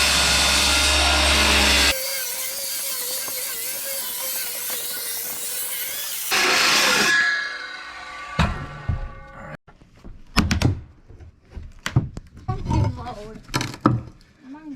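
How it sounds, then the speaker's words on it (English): Power saw cutting rotten deck boards in half during a deck repair: a loud, sustained whining cut at the start, followed by a second, shorter cut, then scattered knocks and clatter as boards are handled. "I'm just gonna cut all the boards in half so we can take it up a little easier."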